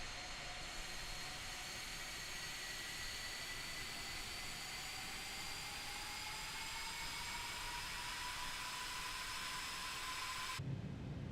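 Boeing 747-8F airliner jet engines in Microsoft Flight Simulator 2020 spool up with a steady roar and a slowly rising whine, heard alone and faint from inside the cockpit, cutting off abruptly near the end.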